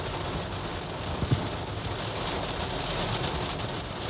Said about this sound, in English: It's really raining hard, and I'm going really slow on the freeway.